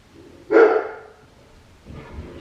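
A dog in a home gives one loud, close bark that tails off, followed a moment later by fainter, lower barking or muffled movement.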